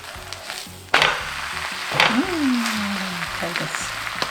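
Vegetable pancake frying in oil in a pan, a continuous close sizzle with occasional scrapes and knocks of a spatula while a person talks over it.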